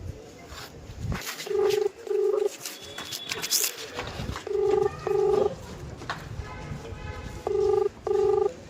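Repeated paired bursts of telephone keypad dialing tones, three clusters spaced across the clip, loud and close, with faint background noise and brief rustling between them.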